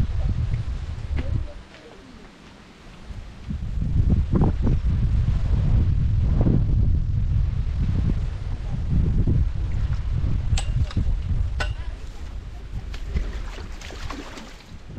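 Strong wind buffeting the microphone at a fishing lake, a loud rumbling roar that fills the recording almost throughout, with faint bird calls and some voice beneath.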